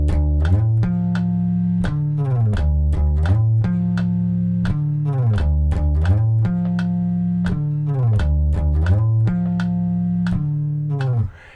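Bass guitar playing a song's intro in tempo, repeated low sliding phrases with plucked notes and a slight bend, loud and close, alone with no talking.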